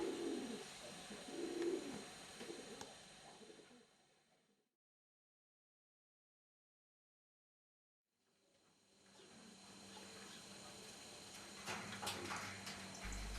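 Racing pigeons coo softly inside a loft with aviaries, low murmuring calls and some wing and movement noise, faint, cut by several seconds of silence midway before the ambience returns.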